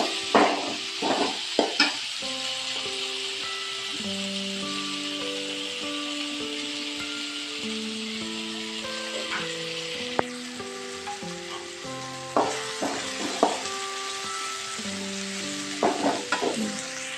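Green beans fry in hot oil in a home kitchen for a simple bean palya, giving a steady sizzle and occasional stirring clicks beneath prominent background music.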